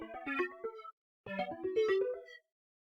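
Synth chords from an Analog Lab preset in a vintage R&B style, two short melodic phrases separated by a brief gap, playing clearly and alone with no voice.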